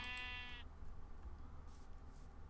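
A sheep bleats in the video game Magicraft, one drawn-out wavering bleat lasting about half a second. It is followed by a steady low background hum with faint higher hiss, and no one talks.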